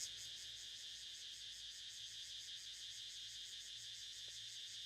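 Steady, continuous high buzzing of cicadas in an outdoor field setting, droning evenly at moderate distance with no pauses for the full stretch.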